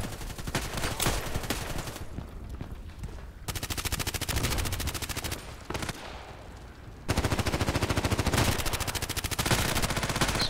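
Gunfire in the video game Contract Wars, with an MP133 shotgun in use, comes as long, loud, rapid volleys of shots separated by quieter stretches of ambient game noise.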